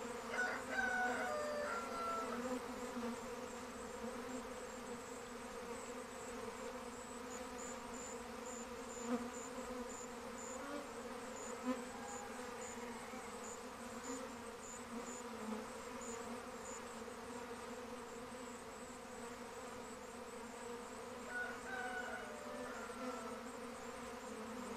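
A dense, continuous buzz of a swarm of honey bees drones steadily throughout, close and full, with faint bird calls now and then in the distance.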